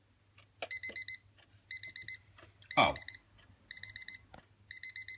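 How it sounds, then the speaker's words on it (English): A Darth Vader twin bell alarm clock sounds a shrill electronic beep in repeating bursts of four quick pulses, steady and fairly close, with a person briefly exclaiming partway through. "instead of the cool dual bell chime, you have the really annoying beep"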